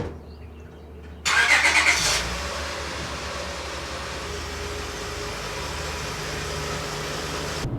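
An aging Honda Accord, over twenty years old, cranks and fires up with a sudden loud burst of starter and engine noise, then settles into a steady, close idle hum that continues without anyone talking.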